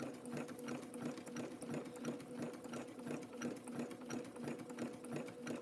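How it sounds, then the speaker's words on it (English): A Baby Lock sewing machine zigzag stitching thin fabric runs in a steady, rapid mechanical chatter with an even rhythmic hum, close and alone. "This is a thin fabric, but my sewing machine's still trying to be picky."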